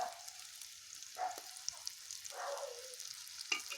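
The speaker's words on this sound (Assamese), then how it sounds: "মই পাঁচফোৰণ অলপ পিছত দি দিম, এতিয়া দি দিওঁ" Panch phoron spices drop into hot oil while making amla pickle, giving a soft, steady sizzle with a few brief crackling bursts, quiet and without talk.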